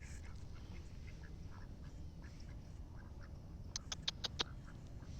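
Ducks quacking in a sunny park, a short burst of several quacks near the end over a low, steady outdoor background murmur, moderately distant.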